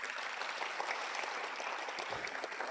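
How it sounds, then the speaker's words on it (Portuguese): A congregation claps for Simone during a church Bible-school family service, a dense, steady burst of applause lasting a few seconds with no voices over it. "Salve de palmas também para Simone"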